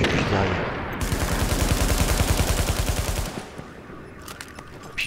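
Rapid automatic gunfire in a video game rattles in a fast, continuous burst for about three seconds, loud and close, then cuts out to a quieter background with a few faint clicks.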